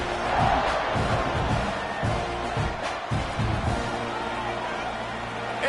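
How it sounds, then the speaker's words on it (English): A football stadium crowd roars and cheers continuously, loud and broad, with surges and thumps as a team prepares to kick off during a USC game. "this crowd now ready to get behind them"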